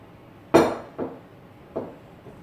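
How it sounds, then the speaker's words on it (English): A spoon knocks against a pot of blackberries with butter and lemon juice: three separate clinks spaced about half a second to a second apart, the first loudest, then fading, alone with no talk. "we'll give that a little stir so that the berries can start to get good and juicy"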